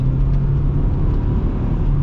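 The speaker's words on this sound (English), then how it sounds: "it's a Subaru, so you gotta rev it out" A 2025 Subaru Impreza's flat-four engine pulls under acceleration, a close, loud, steady low rumble and whir without any talk.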